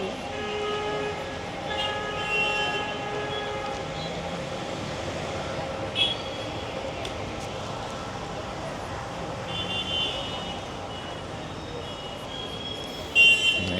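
Vehicle horns honk intermittently beside a big busy road in Mumbai, India, set against a constant roar of traffic, with a sharper louder blast near the end.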